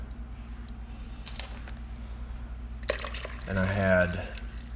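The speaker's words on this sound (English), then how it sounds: "I'm gonna pour it through there, through the straining bag, just to try to rehydrate those seeds a little bit." Elderberry juice poured through a straining bag, a short burst of liquid splashing and trickling near the end, after a stretch of quiet background hum with someone speaking briefly.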